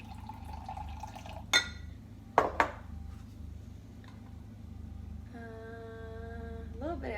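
Fermentation starter liquid poured into a glass jar of asparagus: a few sharp glassy clinks and splashes, then a soft trickle whose ringing tone climbs as the jar fills, close and fairly quiet.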